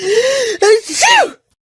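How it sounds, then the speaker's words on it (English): A person gives a single close, theatrical sneeze during a scripted English conversation: a drawn-out voiced inhale that rises in pitch, a brief break, then a sharp voiced burst before silence. "I've been sneezing all day."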